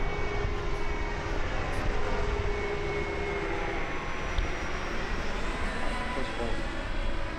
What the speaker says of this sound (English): What's with the nose gear? It's going to make for a hard landing.